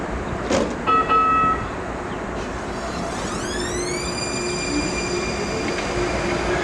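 A Denver D line light rail train pulls away with a rising electric motor whine and steady rolling rumble, preceded by a few brief chimes.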